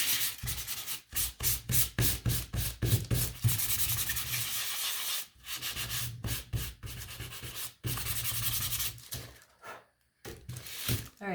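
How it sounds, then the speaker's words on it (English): Sandpaper rubs over a dry painted egg in quick back-and-forth strokes, close and steady, with short pauses between bursts. "this is finally dry, so I'm going to give it a sand"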